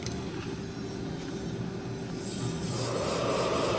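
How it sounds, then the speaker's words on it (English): A dental tooth model is ground smoothly with a steady, close rasping and rubbing drone that grows louder and brighter partway through, with no talk. "Here I have to grind it. Okay? Smoothly grind it."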